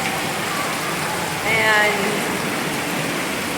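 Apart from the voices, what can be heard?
rain and rainwater flowing down a street in Abidjan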